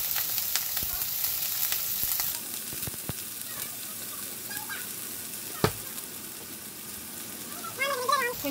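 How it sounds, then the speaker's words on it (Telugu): Frozen onions fry in a pan for a beans fry, a continuous close sizzle with occasional clacks of a utensil and a brief sharp knock, and a faint voice near the end. "మాకు ఫ్రీజర్ ఆనియన్స్ దొరుకుతున్నాయని చెప్పాను కదా, అవి వేసుకున్నాను కొంచెం"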